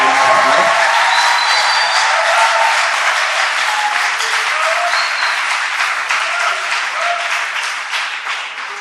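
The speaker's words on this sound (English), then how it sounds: "Let's give an applause." A hall audience at a talk on Esan traditional marriage gives a long, loud round of clapping with a few cheers, dense and continuous, slowly thinning toward the end.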